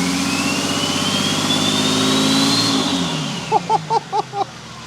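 A Nissan TD42 diesel engine fitted with a Thai-built turbo revs hard under a rising turbo whine, then drops back toward idle, with a short run of rhythmic throttle blips near the end, close and loud.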